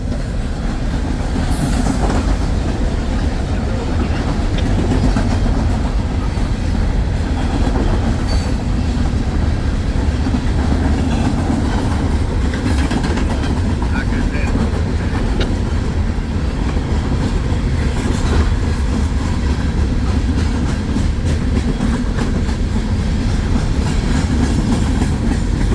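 A CSX manifest freight train, M422, rolls past close by for the whole stretch, a steady loud rumble of railcars with rhythmic wheel clatter and occasional flange squeal, no voices.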